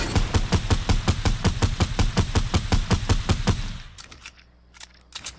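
Fortnite gunfire: a rapid, loud burst of automatic shots in steady rhythm for several seconds, then a few scattered single shots and quieter game sounds.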